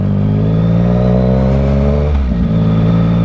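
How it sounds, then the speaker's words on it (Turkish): A loud Yamaha MT-09 SP motorcycle with no muffler rumbles close by on city streets in France, holding a steady rev, dipping briefly, then picking back up. "Şehir içine girmişken fazla egzozu bağırtmamak lazım. Susturucum takılı değil."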